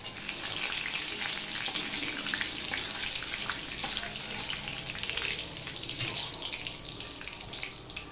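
Panch phoron spices and a torn dried red chilli fry in hot oil, producing a dense, continuous close sizzle with fine crackles and occasional stirring noises, without any talking.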